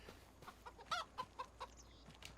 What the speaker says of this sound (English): The chickens just got fed.